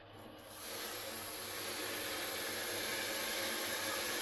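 Water gushes from a newly opened tap, a steady broadband rush that starts after a brief quiet moment and then holds even and fairly soft to the end.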